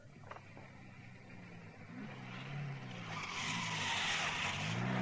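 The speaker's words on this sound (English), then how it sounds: "The staff car came to within 50 meters of the plane and then pulled to a halt" Radio drama sound effect of a military staff car pulling up near a plane, an engine rising in pitch as tires skid, then a lengthening squeal and hiss as the car comes to a halt.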